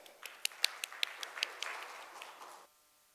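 Applause from an audience at an automotive conference, a burst of scattered sharp claps that swells and then thins out before stopping abruptly near the end.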